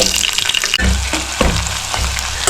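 Chopped onions sizzle in hot oil with mustard seeds, cumin and curry leaves for a bitter gourd sweet curry, a loud close crackle with stirring scrapes.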